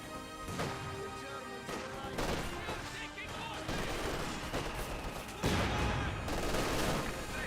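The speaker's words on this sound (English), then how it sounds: "Rifle grenades been fired." In the Company of Heroes 2 video game, rifle grenades fire amid a dense battle mix of bursts, explosions and gunfire, loud and continuous with no clear separate shots.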